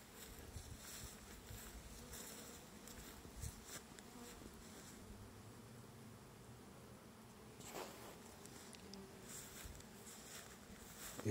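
Honeybees buzzing around an apiary, with some disoriented bees crawling low in the grass; a steady, fairly faint insect drone continues throughout, now and then swelling as bees pass close.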